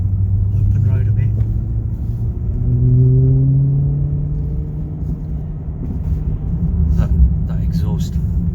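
A Maserati Quattroporte engine rumbles low and rises in pitch as it accelerates, exhaust note droning under people talking inside the car.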